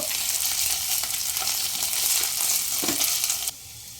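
Onions, slit green chillies and ginger paste fry in a pan over a medium flame, a loud continuous sizzle with occasional stirring knocks, until the hiss drops abruptly near the end.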